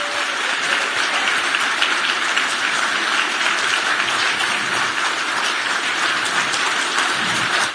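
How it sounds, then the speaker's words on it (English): After a panel discussion on corporate activism, an audience breaks into loud, sustained applause, a dense and steady roar of clapping that stays strong throughout. "Let's first give a huge round of applause right here."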